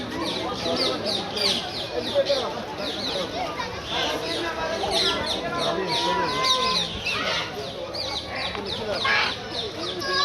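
Many birds call loudly and continuously, a dense overlapping chorus of squawks and honks with people talking faintly underneath.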